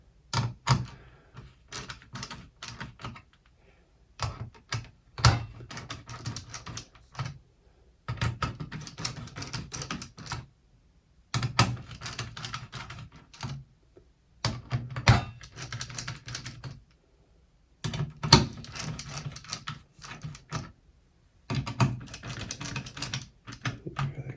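A Torx screwdriver drives screws into an HP Pavilion Wave desktop, making bursts of quick, close clicking and ratcheting separated by short pauses.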